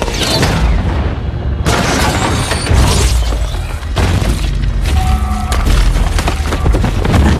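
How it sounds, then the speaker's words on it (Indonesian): Missiles explode in the 2015 film Spy as a series of loud, close booms with crashing, splintering debris, the blasts rolling one after another almost without pause. "Susan mengirimkan bantuan dengan cara menembakkan rudal dari jarak jauh"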